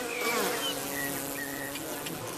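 Bees buzz steadily around a hive, a close, continuous droning hum with overlapping wingbeat tones and no talk.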